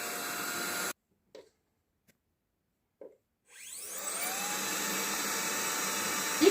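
A Hutt window cleaning robot runs with a steady whirring hiss. The sound cuts out for a few seconds with only brief clicks, then swells back up to a continuous hum.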